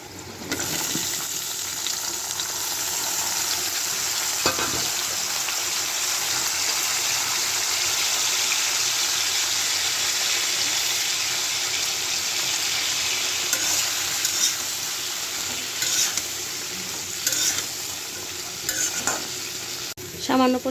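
Potatoes, vegetables and snakehead fish fry together in a pan, giving a steady, close sizzle with stirring scrapes throughout and no talking.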